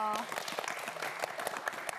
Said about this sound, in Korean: 다시 박수 한번 보내주세요.